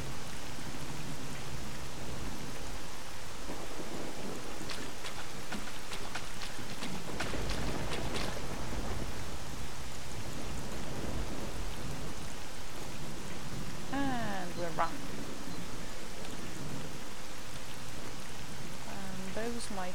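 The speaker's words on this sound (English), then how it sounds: "Thunderbolts and lightning." Steady rain falls throughout a video game thunderstorm near the Pripyat area, with rumbling thunder swelling in the middle and a voice briefly audible under the constant downpour.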